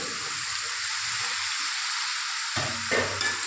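Drained vegetables and Malabar spinach stirred and fried in a pan for a Bengali pui mituli dish, giving a continuous close hiss with one louder scrape of the spatula partway through and no voices.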